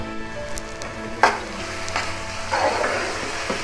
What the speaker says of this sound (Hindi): कीमे की अच्छे तरीके से इसी तरीके से भुनाई करेंगे तकरीबन 5 मिनट के लिए।